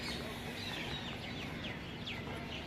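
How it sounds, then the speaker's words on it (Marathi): Birds chirp in short, repeated calls along Mumbai's elevated nature trail at Malabar Hill, fairly faint over a constant broadband background hum. "पक्ष्यांचा आवाज तुम्ही ऐकू शकता."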